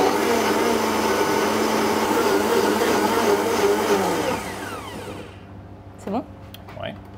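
A blender purees cooked kabocha squash with its own cooking liquid, whirring loudly and steadily up close before winding down and stopping, with brief voices afterward.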